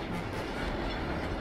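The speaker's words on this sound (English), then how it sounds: "When the train moves, I go." Train rolling along in the video game Uncharted 2: Among Thieves, a steady, loud rumble and rattle of rail cars filling the whole stretch without a break and with no talk over it.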